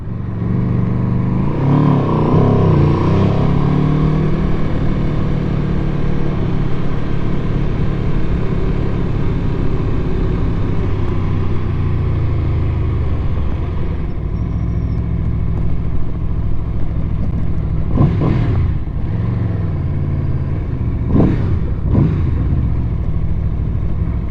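A sport motorcycle with Brembo M50 brakes makes a U-turn, its engine a loud close steady drone that eases off partway, then two short throttle blips near the end.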